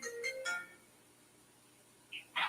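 A phone gives a brief ringtone for an incoming call, a few short bright chimes at the start, then a quiet gap before two more short tones near the end.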